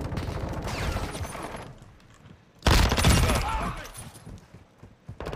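Gunfire crackles in Modern Warfare 2, dense rapid shots trailing off, then a sudden louder close-range burst midway that fades, with voices talking over parts of it.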